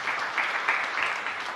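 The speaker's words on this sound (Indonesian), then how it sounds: "Tepuk tangan yang meriah bagi Tuhan Yesus." Congregation applause during a church sermon, brief and steady clapping from a crowd, moderately loud and without voices on top.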